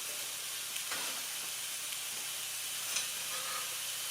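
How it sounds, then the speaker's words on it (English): Pork tenderloin sizzling as it browns in a Dutch oven skillet, a steady hiss of frying fat with a few soft clicks and crackles, close up and unbroken by talk. "we're going to take that, hear that sizzle? We're going to take that and brown it."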